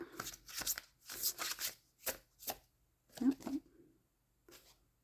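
Tarot cards are shuffled close by in quick riffling bursts, several short papery flurries separated by brief pauses, with a faint voice in the background.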